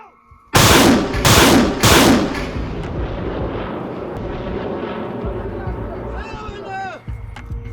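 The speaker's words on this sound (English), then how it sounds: "The launch will begin with the first ranging rocket to establish accuracy on the target." A Grad multiple rocket launcher fires a ranging rocket at the front near Pokrovsk: three loud, close roaring blasts in quick succession, then a long rumbling tail with faint radio chatter and voices at the end.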